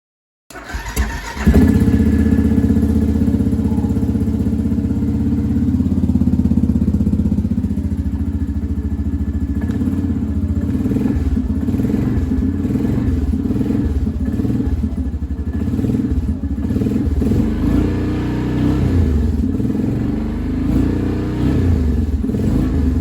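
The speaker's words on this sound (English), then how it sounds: "We're going to listen to a cold start. It's fuel injected." A fuel-injected engine with diff lock cold-starts after sitting about a week, cranking briefly and then settling into a loud, steady, close idle with a rough clattery rumble that lasts to the end.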